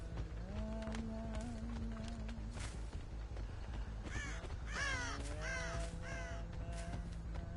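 Crows caw repeatedly in the horror game Dead by Daylight, a run of harsh, rising calls over a steady ambient drone, with no one talking.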